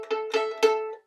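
A violin string plucked pizzicato with the fingernail, three bright, clicky plucks on the same pitch in quick succession, each ringing briefly and closely miked.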